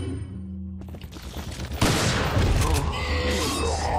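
Shotgun blasts in the video game Resident Evil 4, loud and close, arriving as a sudden burst that rings out over dense gunfire and game noise while someone talks.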